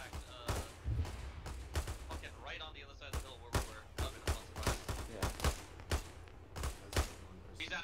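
Repeated gunfire in a firefight from the video game ArmA 3 in Western Sahara, irregular sharp shots and bursts cracking throughout, loud and close, with some distant thuds mixed in.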